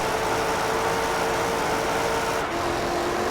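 A race car engine in Gran Turismo 3 screams at high revs, a steady loud drone held at the limit with a brief dip near the end, alone with no talk.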